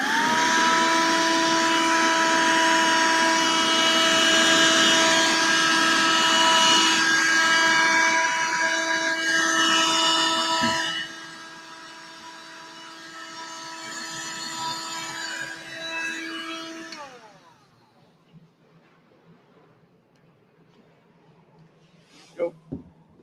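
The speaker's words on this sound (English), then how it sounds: "time to vacuum up some of that excess soil that I put down last week" A small vacuum cleaner sucking up excess soil whines loudly and steadily, then drops to a lower hum before switching off, leaving near silence with a couple of clicks.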